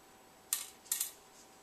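Scissors snip small pieces of copper in a chemistry lab, two sharp, close, quiet metallic cuts about half a second apart, then a fainter third.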